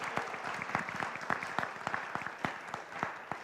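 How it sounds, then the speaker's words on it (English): An audience at a plenary panel session claps for the panelists, a dense patter of many hands that stays fairly even for a few seconds. "A final round of applause for our panelists today."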